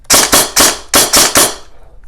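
A Krytac Kriss Vector airsoft gun fires six sharp, loud, close cracks on semi-auto in two quick groups of three, with short gaps between the shots and no talking.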